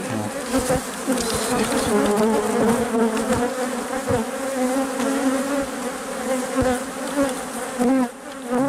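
Dense, loud buzzing of many honeybees, including drones, swarming close by at a hive, a continuous droning hum with no pauses.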